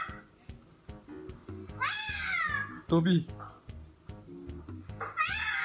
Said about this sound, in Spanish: escucha a otros gatos maullar